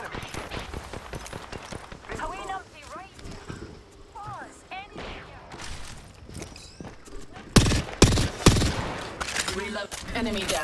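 Rapid gunfire bursts crackle through an Apex Legends firefight, some loud and close and others lighter, running in irregular volleys under spoken voice lines.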